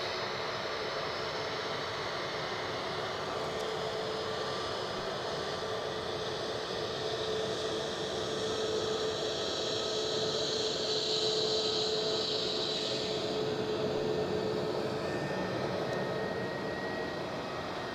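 A Pegasus airliner at Edinburgh Airport gives a steady, distant jet roar and broad hiss that swells slightly midway and holds for the whole stretch, with no voices.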